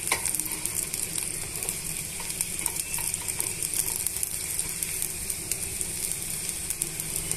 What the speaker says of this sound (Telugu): ఉల్లిపాయ టమాటా ముక్కల్ని బాగా వేయించుకోవాలండి.